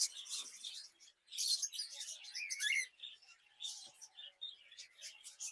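Pet birds in a bird shop in Narayanganj chirping and tweeting in quick, high, overlapping calls, fairly close and steady throughout.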